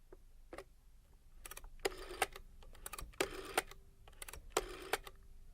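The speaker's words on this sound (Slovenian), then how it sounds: "Ko je Barbara zvedela za to številko, jo je zavrtela." A rotary telephone being dialed, heard as bursts of rapid mechanical clicking and whirring as the dial turns and returns, repeated several times, fairly faint and close with no talking.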